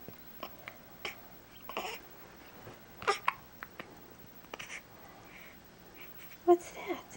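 Person with the hiccups, giving several sharp, brief hiccup-like bursts scattered through a quiet room, with a louder one near the end and faint talk nearby.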